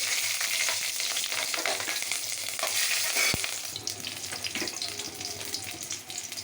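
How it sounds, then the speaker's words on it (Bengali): Whole spices hit hot oil for tempering, a loud dense crackling sizzle that eases after a few seconds into a softer fry with light stirring, no voices. "তেল আমার গরম হয়ে গেছে। এরপর আমি এই যে ফোড়নটা দিলাম।"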